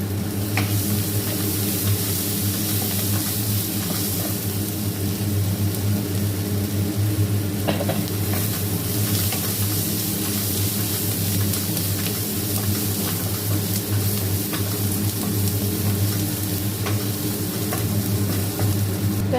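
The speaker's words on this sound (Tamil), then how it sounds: "வெங்காயத்தை போட்டு கொஞ்சம் மஞ்சள் தூள் உப்பு போட்டு கொஞ்சம் நல்லா வதக்கிக்குவோம்" Onion with turmeric and salt sautés in a pan for chana masala, a loud, steady sizzle with ongoing stirring over a constant low hum, no talking.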